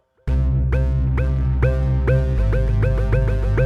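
Electronic music produced in Ableton Live, routed through an echo and then a distortion pedal: a loud, steady, droning bass with repeating synth notes that start about every half second, each smeared with echo tails and gritty harmonics.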